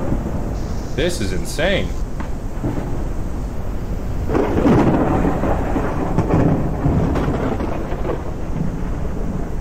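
Thunderstorm in the video game Forever Skies, with rolling thunder booming over steady rain that swells near the middle of the clip, while a voice speaks briefly near the start.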